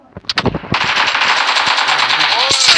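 Gunfire in PUBG Mobile: a few scattered shots open into a loud, sustained close-range machine-gun burst, with brief voices underneath.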